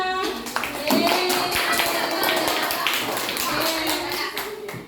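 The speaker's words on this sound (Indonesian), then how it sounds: "Alhamdulillah, tepuk tangan buat semuanya." Students in a classroom clapping for everyone, a brisk patter of hands tapping and clapping under chatter from children's voices.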